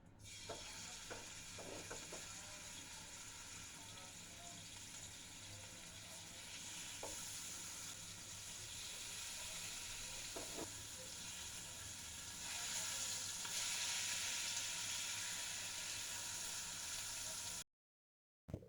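Marinated chicken pieces fry in hot oil in a wok with a steady, fairly quiet sizzle and hiss. A few light clanks come early, the sizzle swells toward the end, and then it cuts to silence.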